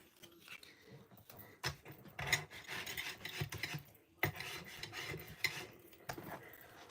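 A small scraper tool rubs over washi tape laid on a paper card, making quiet scratchy strokes in irregular bursts with short pauses, close to the microphone.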